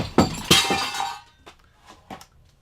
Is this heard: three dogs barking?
no